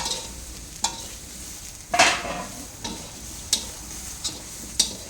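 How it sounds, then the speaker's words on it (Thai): Shallots and garlic dry-roasted on low heat in a pan for a Thai-Isan herb jaew, heard as quiet scraping stir strokes with a few sharper clinks spaced irregularly, soft and close with no talk. "คั่วหอมกับกระเทียม"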